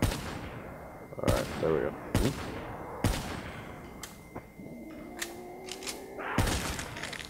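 Sniper rifle shots from the video game Zombies on The Giant map: four sharp, loud, irregularly spaced gunshots ring out, with someone talking between them.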